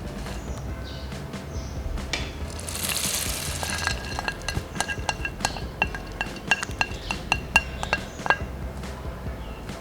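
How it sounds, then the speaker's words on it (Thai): A cereal cookie mixture with cornflakes and grains stirred together in a bowl, giving a steady gritty scraping with scattered clinks of the utensil against the bowl, close and alone with no talking. "จากนั้นก็คนส่วนผสมทุกอย่างให้เข้ากันอีกรอบนึงจ้า"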